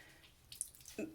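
Water drips faintly and sparsely from a washed stuffed toy as it is squeezed, giving a few soft, brief droplet ticks and a small splash at close range.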